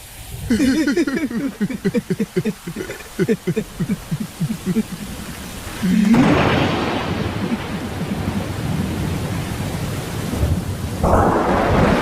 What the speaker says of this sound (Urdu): تو نے ہمیں بارش کی نعمت سے نوازا